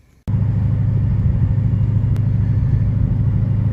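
A Dodge Hellcat's engine drones steadily as the car drives, a loud, deep, continuous rumble heard from close by with no talking.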